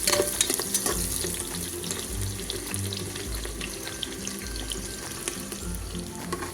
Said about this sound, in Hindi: तो अब हम प्याज को अच्छे से फ्राई करेंगे।